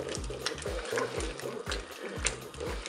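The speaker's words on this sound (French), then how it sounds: "Je mélange tout ça." A spoon stirs ratatouille vegetables with tomato concentrate in a Cookeo multicooker pot, making a steady rhythm of soft scraping, squelching strokes a few times per second over a faint wet sizzle.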